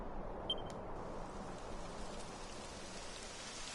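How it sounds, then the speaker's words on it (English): Steady rain falls on a surface in the video game Dragon Quest XI, a soft continuous patter, with a brief faint electronic beep near the start. "It would have to go and start raining, wouldn't it?"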